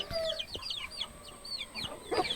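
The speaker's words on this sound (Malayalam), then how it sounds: "നല്ല കാപ്പിരി നാടൻ ഇനത്തിൽപ്പെടുന്ന കാപ്പിരി കോഴിയാണിത്" A Kappiri hen, a native breed known as a good mother to her chicks, clucks in short, repeated soft calls close by, with faint bird chirps in the background.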